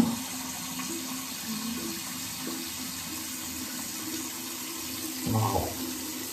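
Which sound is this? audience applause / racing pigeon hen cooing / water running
water running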